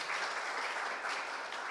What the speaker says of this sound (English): So I think we should first of all give Professor Cantor a round of applause.